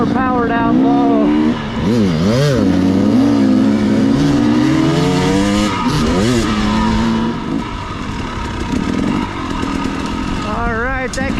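A dirt bike engine revs loudly and close during a trail ride on the Uncompahgre Plateau, its pitch rising and falling repeatedly as the throttle blips, with a rider talking over it.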